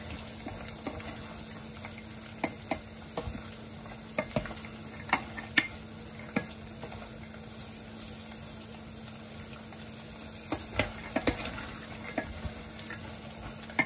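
Peanuts frying with garlic in a pan, a steady soft sizzle with occasional stirring clicks and scrapes, fairly quiet and without talk.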